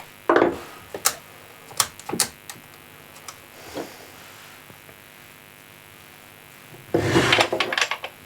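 Scattered close clicks and knocks sound as a chainsaw chain is tightened by hand, with sparse taps and a denser rattling burst near the end.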